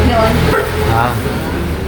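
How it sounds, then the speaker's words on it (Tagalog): Dog barking in a loud, cluttered home setting, the yelps blending into continuous noise and overlapping voices, close to the microphone. "Aso ko yun."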